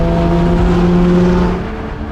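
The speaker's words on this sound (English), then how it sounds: "The Ferrari has the handling and an astonishing soundtrack." A Ferrari supercar on the road in France, its engine holding a loud, sustained high rev with a smooth tonal whine, then easing off slightly near the end.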